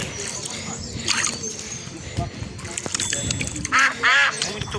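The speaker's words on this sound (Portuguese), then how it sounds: "Esses patos bobos ficam se mexendo." Ducks in a children's game give a couple of quick quacks near the end, following cluttered game sounds and soft patter, with some speech-like sound in the mix.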